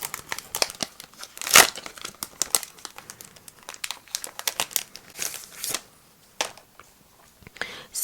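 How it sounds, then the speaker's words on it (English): Plastic packaging of a sticker collection of transparent vellum stickers being opened up close, a steady run of crinkling and tearing rustles with one louder burst near the start, quieter handling toward the end. "Let me just open it up and then take it out so we can have a better look."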